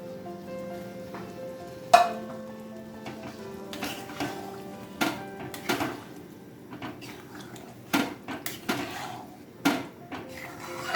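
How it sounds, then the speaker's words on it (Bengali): Two cups of dal being poured into a pot for sambar, with wet scraping and soft plops among sharp spoon-on-metal clanks. A faint sizzle runs underneath, and the sounds are close. "ডালটা ঢেলে দিচ্ছি।"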